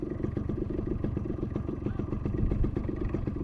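A motorcycle engine running close by on a quiet road away from the city, a steady low chugging putter with a rapid pulsing rhythm and some clattering, loud and continuous for the whole stretch.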